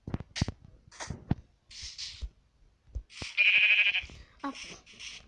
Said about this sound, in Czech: Tady vidím ovečku.